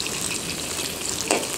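Food fries crisp in hot oil with a dense, steady sizzle and crackle. A brief louder spatter comes near the end, and no one speaks.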